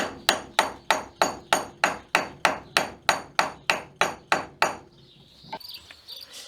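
A wooden mallet drives a chisel along a marked line in acacia wood for a wisteria pergola: about fifteen sharp, evenly spaced knocks, close and loud, followed by quieter scraping and handling.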